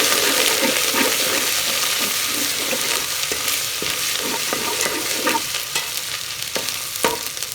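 Garlic ginger paste frying in a pan with browned onions while making degi chana pulao, a loud steady sizzle with intermittent scraping stirs and clicks from the spoon, close up and without talking.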